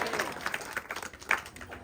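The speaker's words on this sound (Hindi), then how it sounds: "तालियां बजाओ।" Audience members at a Hindi spiritual discourse clap briefly in scattered, fairly faint bursts, with murmuring voices mixed in.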